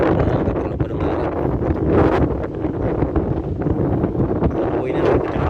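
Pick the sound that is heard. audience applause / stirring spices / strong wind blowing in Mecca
strong wind blowing in Mecca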